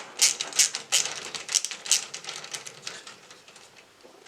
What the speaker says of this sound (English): now let's go ahead and unscrew this screw here for the 1050